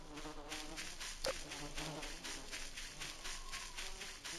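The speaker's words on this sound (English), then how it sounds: "Oh, I know that sound. It's bees." Video game bees buzz in a busy, wavering swarm drone, pulsing in a steady rhythm with one brief sharp click partway through, heard alone at moderate volume.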